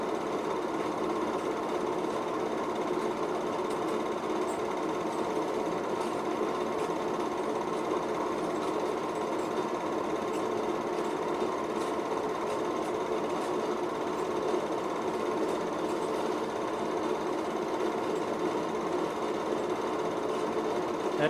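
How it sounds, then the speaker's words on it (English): Old Model T or Model A car engines idling at a university centennial event, a steady rapid mechanical chatter and rumble that holds constant throughout at moderate loudness. "We got some old Model Ts or Model As cranked up."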